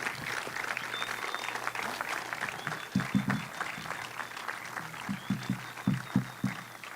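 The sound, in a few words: audience applause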